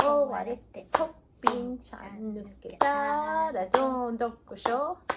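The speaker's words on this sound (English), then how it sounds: "clap and you slap the other opposite hand of your partner" In a Japanese hand-clapping game, partners clap and slap each other's hands in time to a sung children's rhyme like "zui zui zukkorobashi". Crisp, close claps and slaps land between and under the chanted singing.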